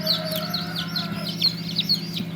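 Chickens on a Tiger chicken farm, with a run of short, repeated clucks and chirps over a constant mechanical hum, close by and moderately loud.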